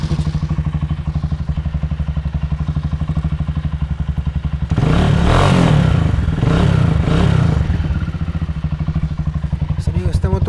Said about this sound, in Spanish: esta moto cuenta con un escape a Caprovis, por eso se escucha así también, se escucha muy bien este escape